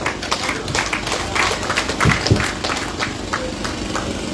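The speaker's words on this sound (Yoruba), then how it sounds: "Eba mi pàtẹ́wọ́ fún wa jọ̀ọ́." An audience claps at the groundbreaking ceremony of OAK Centre, producing a dense, continuous patter of many hands throughout, fairly loud and close, with a low background rumble underneath.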